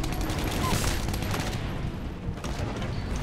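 Rapid gunfire from a player's weapon in the shooter game Titanfall, a dense sustained burst of loud shots layered with explosions and battle noise, a voice briefly audible over it.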